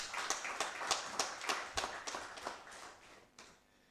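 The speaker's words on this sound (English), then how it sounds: "I think you can clap for NBS." Scattered audience clapping at a live World Statistics Day conference, a handful of distinct claps in an uneven rhythm that thin out and fade over a few seconds.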